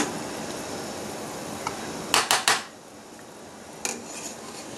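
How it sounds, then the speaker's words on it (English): A metal ladle clinks several times against a pot while foam is skimmed off boiling pork soup with chrysanthemum greens, a quick cluster of sharp scrapes followed by a lone knock over a low simmering hiss. "Let's scoop out some of this foam here."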